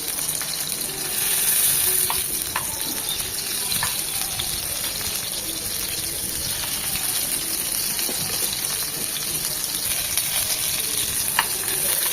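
Beef mince seekh kebabs frying in just a spoonful or two of oil, a steady close sizzle with a few faint clicks of utensils, no talk.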